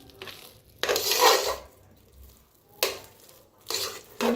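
Cooked moong dal being mixed in a metal pot, with bursts of scraping and clinking from the spoon against the pot separated by brief pauses, close and fairly loud, no voices.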